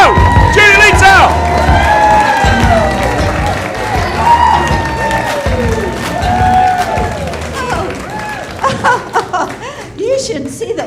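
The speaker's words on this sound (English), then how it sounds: "a big round of applause for Judy Leetzow" An audience cheers and applauds for Judy Leetzow at a class show, a loud, sustained roar of clapping, whoops and laughter mixed with excited voices throughout.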